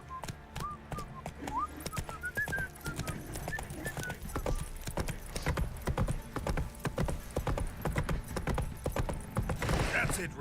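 Hooves of Roach, Geralt's horse in The Witcher 3 game, clip-clop in a steady trotting rhythm, with a brief whinny and a voice speaking over the hoofbeats.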